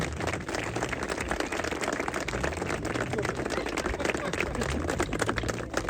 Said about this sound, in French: on peut applaudir tous les 4 aussi